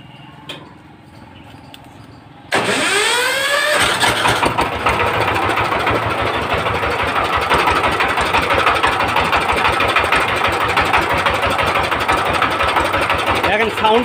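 A 20 hp direct-injection diesel engine on a power tiller, air cleaner removed, cranks after a quiet lead-in and catches at once. It then runs loud and steady at a fast, even idle, with faint talk beneath it.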